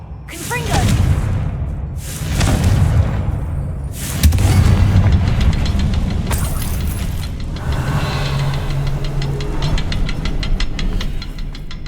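Confringo explosive spell blasts in Hogwarts Legacy, several heavy booming hits spaced a couple of seconds apart over a rumbling game soundscape, loud and close, with a voice speaking at times.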